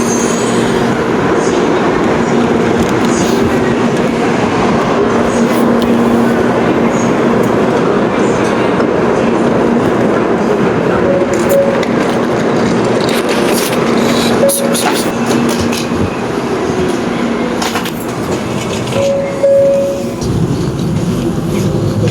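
Inside a Shinkansen bullet-train carriage in Japan, a steady, loud broadband rumble of rolling and cabin noise runs continuously, with faint tonal hums and scattered clicks throughout.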